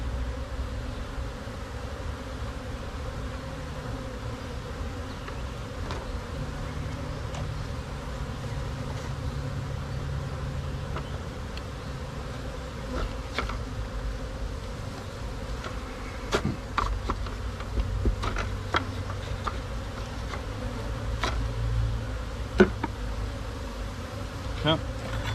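A steady, dense buzz of honey bees swarming around an opened hive as frames of foundation are added, with occasional clicks and knocks of hive handling mixed in.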